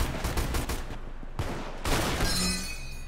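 Rapid bursts of gunfire in the Roblox game Arsenal crackle loudly and densely, pausing briefly before another burst, ending with bright ringing tones from the game.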